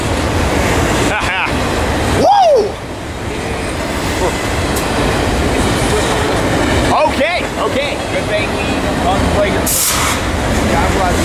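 A BNSF freight train rolls past at Fullerton with a loud continuous rumble and rhythmic wheel clatter, plus a few whistling squeals, while people talk and cheer over it.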